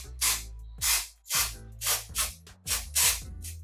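Lace tinting spray in medium brown misted onto a wig in six short hissing bursts, each about a third of a second, close and fairly loud with brief pauses between.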